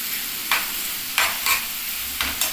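Egg, potato and onion fry together in a pan with a constant soft sizzle, broken by about five scraping stirs of a spatula at a steady pace, with no one speaking.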